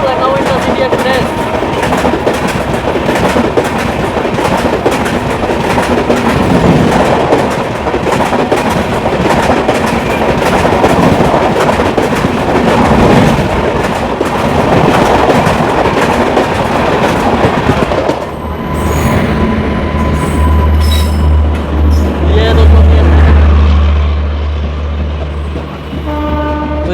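An Indian express train runs steadily on the Ganga Sutlej route, heard from inside a sleeper coach with constant rolling rumble and rattling, a blaring horn near the end, and voices talking over the noise.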